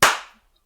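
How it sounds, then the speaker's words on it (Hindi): A single sharp hand clap rings out close and loud, then decays quickly into silence. "क्लैपिंग"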